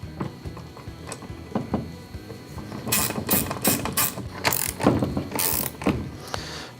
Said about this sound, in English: then I'll drive the bolt back in using a 9/16 wrench